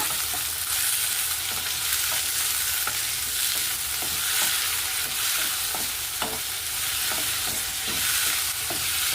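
Chopped green chillies and tomato frying and being stirred in a pan, a steady sizzle with regular scraping strokes of the spoon throughout, no talking.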